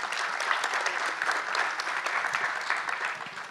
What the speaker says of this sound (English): So big applause, please, for them.